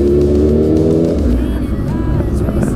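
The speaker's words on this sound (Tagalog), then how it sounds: "Lakas ng tambuchi niya. Ano bang motor to?" A loud big bike engine revs and idles roughly nearby, its deep exhaust rumble steady with a throaty pitch shift partway through.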